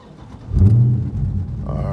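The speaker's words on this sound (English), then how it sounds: "now I'm gonna go ahead and crank the car up" A Dodge Scat Pack Charger or Challenger engine cranks and fires, a low burst swelling into a rumble that settles to a steady idle, with talk around it.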